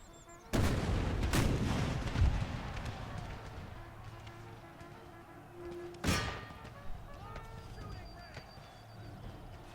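Rifle fire from Union troops in a Civil War video game, with a loud opening volley, scattered sharp shots and a second heavy crack later, under a rumbling battle din.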